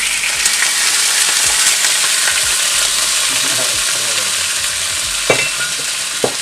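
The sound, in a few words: tofu noodles frying with Shaolin cooking wine in a pan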